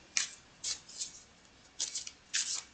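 A deck of cards is shuffled in several quick riffling bursts with short pauses between them, close and fairly quiet against a faint background.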